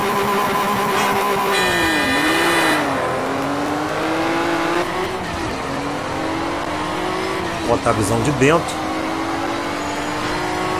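Race car engine in the Need for Speed Shift video game, droning and shifting pitch steadily as it accelerates through gears, with someone talking over it throughout.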